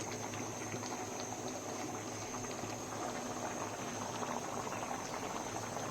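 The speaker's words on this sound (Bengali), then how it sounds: "2 মিনিটের মতো একটু ফুটিয়ে নেব" A pot of green banana and fish curry at a steady boil, a continuous bubbling simmer with soft popping that stays even and fairly quiet throughout, with no talk over it.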